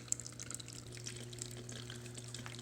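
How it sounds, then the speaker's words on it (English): Running water from a small homemade water fountain and planter diorama, a faint, steady trickle and splash that continues without a break, with a low hum underneath. "add running water like this one here"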